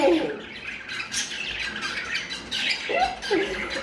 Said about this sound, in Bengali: বুলবুলি আওয়াজ